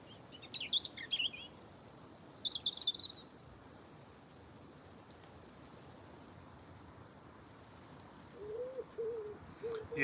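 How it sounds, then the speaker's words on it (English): Birds chirp and sing in the open countryside beside a Norfolk Broads river at Dilham. A burst of high song comes in the first few seconds, then a quieter stretch of steady ambience, then a low repeated coo near the end that fits a cuckoo. "All you can hear is the birds and the cuckoo"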